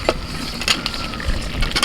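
Fried potatoes going into a pan of sizzling chicken curry, with a steady frying hiss and a few scraping stirs and clacks close by.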